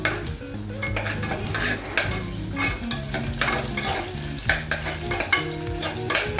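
A spoon stirs mustard seeds in a cooking pot while making pachi pulusu, giving repeated close scraping and clinking strokes over a faint frying sizzle, with a steady tune playing underneath.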